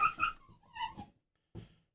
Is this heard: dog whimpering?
yes